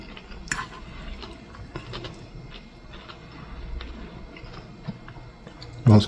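Close crunchy chewing of mahi mahi with red onion, basil and cherry tomato, with irregular soft bites and squishes, a sharper crunch near the end, and no talking over it.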